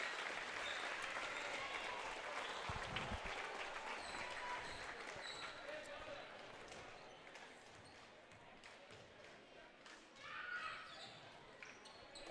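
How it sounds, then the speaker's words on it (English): Crowd applauds the starters at a KMAC boys high school basketball game, Danville Blue Devils at Northmor Golden Knights; steady gym-wide clapping and cheering runs throughout, easing slightly, with a bounce-like thud early and a brief swell near the end. "And an applause for the starters."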